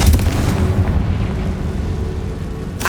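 A Confringo spell explosion in Hogwarts Legacy, a loud deep boom that rolls and rumbles for a few seconds, with a sharp crack at the end.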